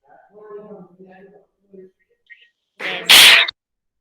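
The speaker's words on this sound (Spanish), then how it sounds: "Se escuchó como un estornudo." A sudden loud sneeze bursts out after some quiet talking in the room.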